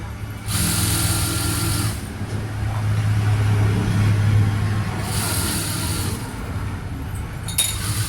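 A sewing machine stitches a blouse seam, running in two steady bursts of close, loud whirring with a pause between them and a quieter clink near the end.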